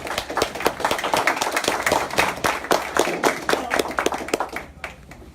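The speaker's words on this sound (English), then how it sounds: "I think this deserves a round of applause, don't you?" An audience at a live Kangen water presentation gives a round of applause, crisp individual claps merging into a lively, irregular patter that tapers off at the end.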